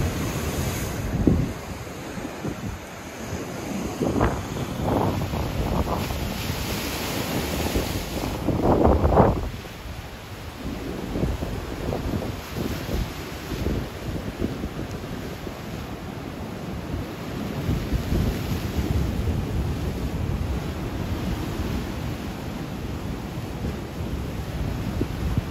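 Stormy wind buffets the microphone while ocean waves surge and crash along the rocky Mallorca coast at Santa Ponça, a continuous loud roar with swelling breakers.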